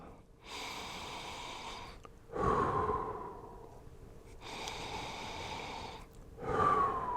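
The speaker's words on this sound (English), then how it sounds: "breathing in." Quiet, close breathing: slow, deep inhales alternating with softer exhales over two full cycles, with no speech.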